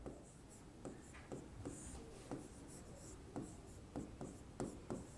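Chalk or marker strokes on a board during a Hindi grammar lesson, a steady run of short scratchy taps and rubs at close range with no talk over them.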